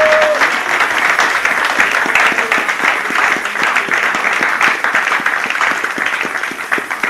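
A church congregation claps and cheers in praise, a loud dense applause of many hands that continues evenly throughout.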